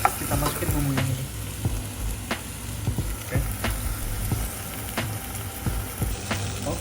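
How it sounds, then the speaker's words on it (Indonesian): Dried chilies stir-frying in spice paste in a pan make a continuous close sizzle, broken by repeated scraping and tapping strokes from a spatula as the mixture is stirred. "Oke, cabai kering masuk. Aduk lagi."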